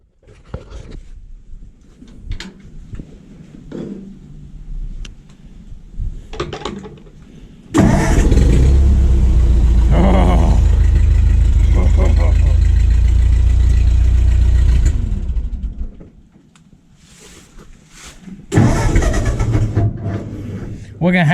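A Ford 8N tractor engine cranks and catches, then runs loud and close with a steady heavy rumble for several seconds before dropping off, with people talking before and after.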